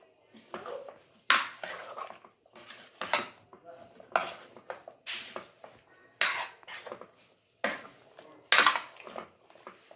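Spoon stirring potato and green pea curry in a metal pot, with repeated scraping and clinking strokes in an irregular rhythm, close and fairly loud.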